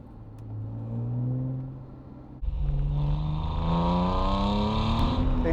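Ferrari 355 engine revving under throttle, first a steady cruising drone, then a sudden loud surge as the throttle opens, with the pitch climbing through rising gear pulls, close and prominent, with no talk.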